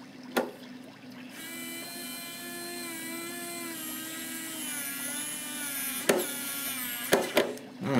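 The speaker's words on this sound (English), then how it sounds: "Alright, now get my drill, get on the underside," A power drill whines as it drives into the underside of an Edge 540 model airplane. The steady motor pitch runs for several seconds amid a few sharp knocks and clicks of handling.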